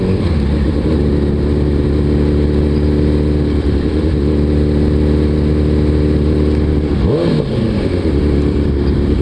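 A Suzuki Hayabusa liter-class motorcycle rides along at around 25 mph, its engine humming in a steady, loud, near drone, with a brief dip and swell in revs late in the ride and no voices.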